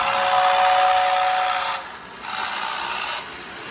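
A steady, breathy toy train whistle blows continuously, dipping briefly in the middle before resuming, close and fairly loud with no voices.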